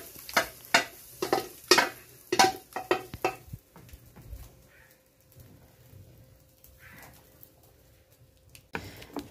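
Beans and maxixe going into a pan and cooking, with a few loud clattering stirs and splashes at first, then a quiet simmering bubble and a final scrape.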